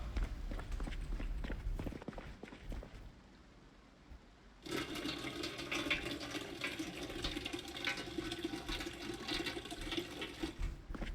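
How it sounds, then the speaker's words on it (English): Water filling at a dispenser in the video game Project Zomboid: after a quieter stretch, a steady rushing pour starts abruptly midway and carries on to the end. "I believe we have a dispenser. Just to fill that up."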